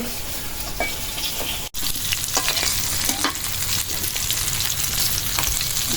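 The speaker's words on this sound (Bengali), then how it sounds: "মাছ ভাজা হয়ে গেছে উঠাই দিয়ে" Fish frying in hot oil, a dense close sizzle with scattered pops and spatula scrapes, one brief sharp click near the start, no voices.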